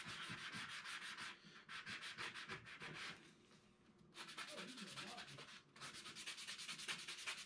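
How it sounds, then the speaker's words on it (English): Steady hand sanding of a propeller edge, close up, with rough rhythmic rubbing strokes that pause briefly twice before resuming. "sanding away, because it's monotonous."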